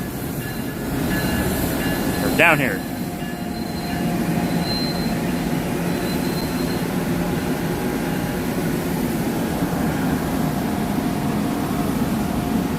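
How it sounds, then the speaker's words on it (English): A train sits at the Princeton Junction station platform with a steady low rumble, and a brief wheel squeal cuts in near the start over continuous loud railway noise. A voice speaks briefly. "That's the train I rode in on"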